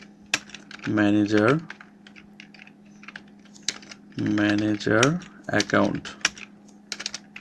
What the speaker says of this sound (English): Now I will open a new tab and type Google